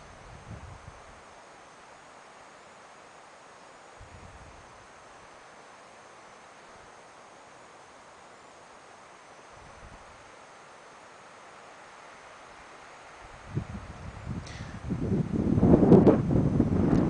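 Wind blows through rustling leaves outdoors, a faint steady hiss for most of the stretch with a few soft gusts, then swelling into louder, rougher buffeting toward the end, with no voices.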